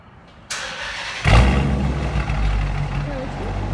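A 2018 Dodge Challenger R/T with dual exhaust and resonator delete cranks and fires up with a sudden loud roar, then settles into a deep, rumbling idle close by, with a voice speaking briefly over it.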